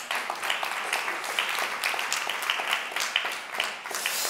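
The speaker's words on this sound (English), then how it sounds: "An applause for Helena." An audience at a conference on gender-responsive public procurement applauds for a speaker, a continuous, moderately loud patter of many hands with no voices over it.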